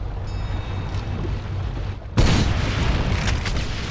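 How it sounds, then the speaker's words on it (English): A concussion grenade from a shotgun's secondary fire explodes in the shooter game Resistance 3, a sudden loud boom midway that leaves a sustained rumbling roar over game background noise. "I modified its secondary fire with longer-range concussion grenades."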